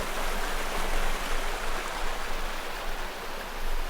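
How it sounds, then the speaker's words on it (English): A small waterfall in a desert oasis near Tozeur in the Tunisian Sahara makes a steady rushing splash that fills the air, constant and close, with no other sounds. "Get a little waterfall here"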